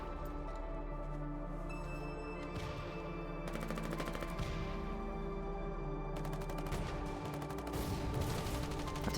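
SMG fire in the war game Foxhole, with rapid automatic bursts crackling in several long strings and other gunfire going on around them, a steady, dense battlefield din.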